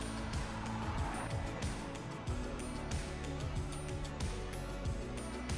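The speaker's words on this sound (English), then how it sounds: "Wow, people drive fast." Cars speeding along a highway in southern Chile, a dense, continuous roar of tyres and engines with repeated swells as vehicles rush past nearby, no pause between them.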